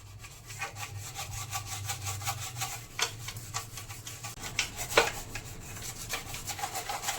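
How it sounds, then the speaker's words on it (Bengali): A stiff brush scrubs hard into the corners of a kitchen surface near a gas oven, giving a rough, repeated rasping sound with steady back-and-forth strokes, fairly close and moderately loud, with no talking over it. "তো ব্রাশ দিয়ে ভালো করে ঘষে পরিষ্কার করে নেব"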